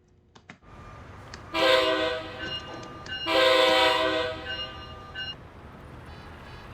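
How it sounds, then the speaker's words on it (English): Amtrak Acela Express in Train Sim World 4, on the Boston Sprinter route, sounding two loud, sustained horn blasts over the quiet rumble of the running train, after a few sharp cab clicks at the start. "I love the Acela."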